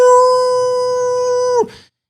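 A person mimics a dog howling with one long, steady, tonal note held for over a second before it drops sharply and cuts off, loud and close.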